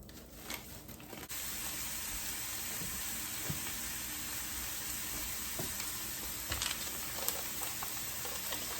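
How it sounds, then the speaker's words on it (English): Ground beef hitting a hot pan for homemade turkey chili sets off a steady, loud sizzle that holds evenly, with a few small clinks and scrapes over the top and no talking. "now I'm going to add my ground beef to my pan"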